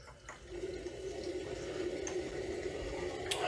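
An Ideal Standard Prosys 80 toilet cistern refills with water, a steady hiss and rush that builds gently in level over a few seconds, fairly quiet and without talk.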